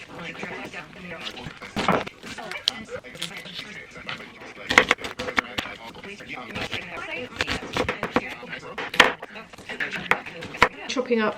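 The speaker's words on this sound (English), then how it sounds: "Chopping up some mint and coriander" Knife chopping fresh mint and coriander on a board in a home kitchen, a quick irregular run of close, sharp taps with short pauses, alongside faint background voices or radio.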